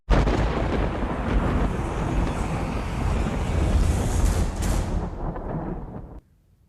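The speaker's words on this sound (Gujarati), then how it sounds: "દરિયામાં ભરતીના કારણે કિનારો વટાવી પાણી રોડ પર અને નમો પથ પર ફરી વળ્યા." High-tide sea waves on the Daman coast surge over the shore onto the road, a loud, unbroken close roar with wind buffeting that cuts off abruptly near the end.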